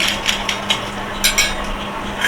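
Two small toy bowls from a doll house play set knocked and shuffled together, producing a few light, close clicks and taps spaced irregularly over a steady background hum.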